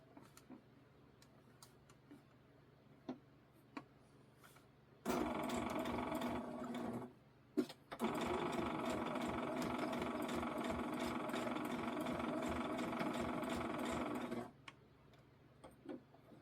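A sewing machine runs a straight stitch in two long, steady bursts of rapid mechanical whirring with a brief pause between them. Faint clicks come before and after.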